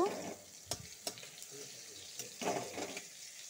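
Bengali chal kumra (ash gourd) fritters fry in oil with a soft, continuous sizzle, broken by a few sharp clicks and scrapes as pieces are turned over; quiet and close, without talking.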